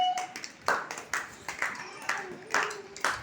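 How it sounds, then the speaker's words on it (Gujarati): Young children in a preschool class do the rhythmic 'laddu' clap, a series of sharp hand claps in a steady beat of about one every half second, with a voice and chatter faintly underneath. "બનાવો લાડુ તાળી"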